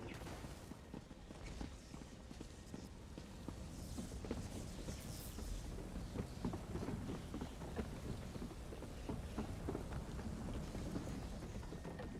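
Steady rain and rolling thunder from a stormy scene in an Xbox Series X video game, a continuous hiss of rainfall with low rumbles, loud and unbroken throughout.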